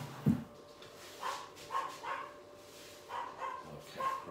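Dogs bark indoors in a string of short, muffled barks, several spaced yaps and woofs heard at a distance, fairly faint.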